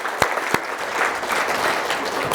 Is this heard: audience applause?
yes